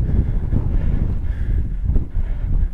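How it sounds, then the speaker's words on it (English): A steady westerly wind buffets the microphone on open Dartmoor moorland near Sheeps Tor above Burrator Reservoir, a continuous low roaring rumble with gusty swells and no speech. "Wind's coming in from that westerly direction."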